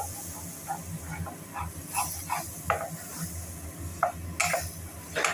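Green chilli frying in a little oil in a wok, with a steady hiss under bursts of stirring and scraping against the pan.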